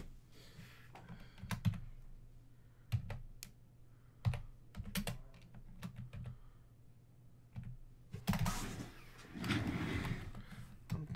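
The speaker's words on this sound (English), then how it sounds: "Typing it in as I go" Scattered keystrokes on a computer keyboard, sparse and irregular, fairly quiet in a room, mixed with occasional handling clatter and a louder rustling burst near the end.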